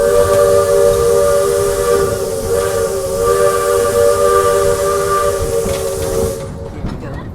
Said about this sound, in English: Doug was pretty eager on that whistle there